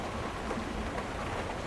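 Steady rain falls at night, a constant dense hiss of drops with no pauses or voices, moderately loud and even throughout.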